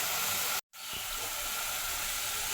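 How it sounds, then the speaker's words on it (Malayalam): Water poured into a pan of Kerala-style fish head curry makes a loud, steady hiss. A brief silent gap interrupts it, then the rush carries on unbroken. "ഇനി നമുക്കിതിലേക്ക് വെള്ളം ചേർത്ത് കൊടുക്കാം"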